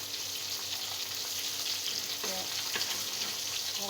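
Fish sizzling steadily in hot oil in a pan, a continuous close crackle with a few brief clinks of stirring, no voices.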